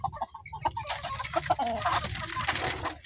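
A small group of four or five chickens clucks close by, first in sparse short calls and then in busier, overlapping clucks and squawks.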